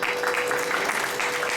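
Audience applause at a Sangeet Sandhya music evening, a steady wash of clapping for the event's organiser, with a faint constant hum underneath.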